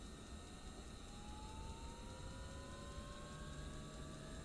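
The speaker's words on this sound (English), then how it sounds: "Standby gyro pump. On. Oh, the noise is fantastic." Standby gyro pump running in the Black Square Bonanza, a flight simulator game, giving a faint steady electric whine with several thin sustained tones and one slowly rising pitch over a constant hum.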